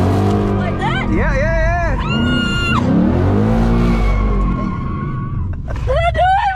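A Ford Mustang GT sliding in a circle gives long, loud tire squeals over a droning, revving engine, with voices talking over the noise.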